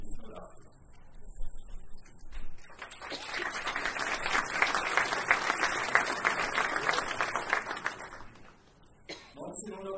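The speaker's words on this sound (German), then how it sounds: "Applaus" Applause from the audience at a German company award event honouring a family haulage firm, dense clapping that builds, holds steady for several seconds, then thins out near the end.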